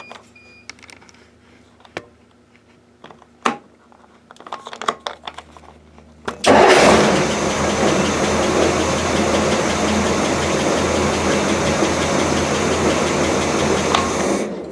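Near the middle, one engine of a 1968 Chris-Craft Commander boat fires up after some clicks and clunks and then settles into a loud, steady idle that continues to the end.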